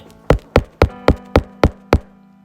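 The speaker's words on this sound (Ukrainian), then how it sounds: "аж раптом він почув тихенький стукіт" Seven soft, evenly spaced knocks on a door, close by and alone, with a steady faint hum underneath.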